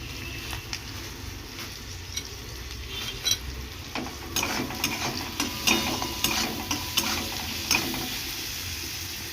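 Onions fry and sizzle in a pan, with a steady hiss under intermittent scraping and clinks as they are stirred.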